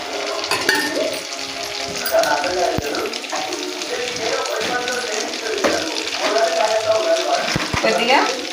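Oil sizzles in a pan while a prawn curry is being cooked, a steady frying hiss with scattered crackles and stirring clatter, under ongoing talk.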